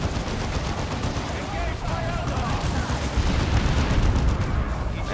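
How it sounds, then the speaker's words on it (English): Rockets and gunfire in the video game Warhammer 40,000: Dawn of War II, with dense, continuous bursts of shots and explosions rumbling throughout at high volume. "your guys are shooting rockets into their heads from that building"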